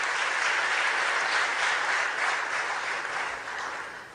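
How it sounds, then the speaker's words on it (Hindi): A hall full of people at a ceremony honouring UPSC toppers at Minto Hall breaks into sustained, even applause to welcome a young woman, fading slightly toward the end. "तालियों से स्वागत करेंगे जागृति जी"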